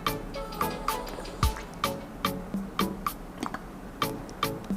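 Thick milk syrup is poured into a rose latte made with coffee, with soft, quiet liquid drips and trickles falling in an irregular rhythm, close and gentle.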